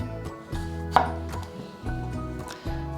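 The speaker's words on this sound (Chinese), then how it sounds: "把番茄切成块状" A knife chops a tomato into chunks on a cutting board with a series of firm, close thuds in an uneven rhythm, each strike clear and distinct.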